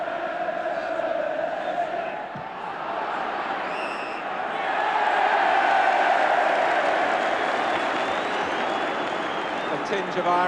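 A stadium football crowd at Everton versus Bayern Munich cheering as Everton win a free kick, a broad distant roar that swells midway and then stays loud.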